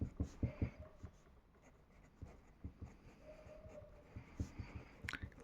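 Chalk or marker writing on a board during a Hindi chemistry lesson on valence bond theory, heard as quiet taps and short scratchy strokes in irregular bursts, fairly close, with faint background noise and no clear talking.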